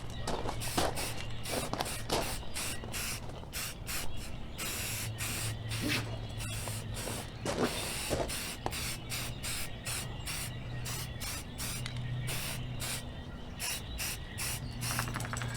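Aerosol spray paint hisses onto a rifle in repeated short bursts, each spray starting and stopping in an uneven rhythm, heard up close with faint handling clicks between bursts.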